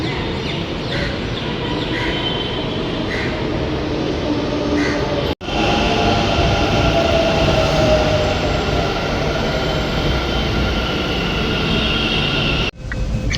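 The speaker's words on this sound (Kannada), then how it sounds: "ಟ್ರೈನ್ ಬರ್ತೈತೆ, ನೋಡ್ತಾ ಇದ್ದೀರಾ." A metro train arrives at a station with a long, steady roar of wheels on track, broken by two abrupt drops in the noise, and faint chirping tones early on.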